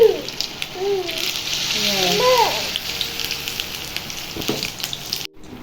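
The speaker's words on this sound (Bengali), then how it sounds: "বড়াগুলো ছাড়ার তো দেখালাম, উল্টিয়ে দিয়েছি।" Vegetarian bora fritters fry in hot oil, giving a steady close sizzling hiss throughout, with a voice speaking over it in the first half and a brief clatter near the end.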